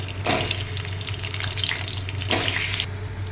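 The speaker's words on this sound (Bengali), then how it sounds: "এবার আলুগুলো লালচে করে ভেজে তুলে নিলাম।" Boiled potatoes frying in mustard oil in a wok give a continuous hissing sizzle, with two louder bursts of spattering as the pieces are moved, over a low steady hum.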